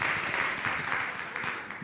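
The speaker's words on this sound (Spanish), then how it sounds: "un aplauso para él" Studio audience applause for an interview guest, continuous and fairly loud, a thick wash of clapping that tapers slightly toward the end.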